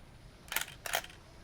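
Shutter of a Nikon F55 35mm SLR film camera firing twice, two quick crisp mechanical clacks about half a second apart, close and isolated in a quiet room.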